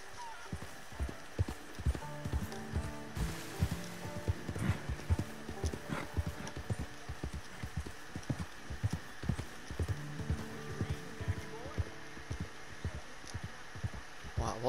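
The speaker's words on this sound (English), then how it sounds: "So we've got horses." Horse hooves clip-clop in a steady rhythmic trot over a low hum in the video game Red Dead Redemption 2, with occasional voices speaking over the continuous beat.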